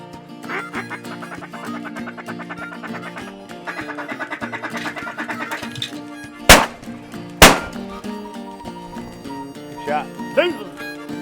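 Two loud, sharp shotgun blasts about a second apart ring out during a teal hunt in Louisiana salt grass marsh, following a long stretch of duck calls and quacking, with hunters' voices afterward.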